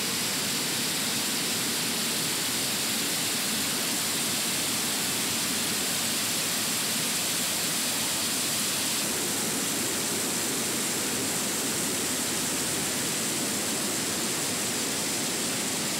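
A small cascade of the Salinthe mountain stream spills beneath a bridge, giving a loud, dense, unbroken roar of falling water heard up close with no voices.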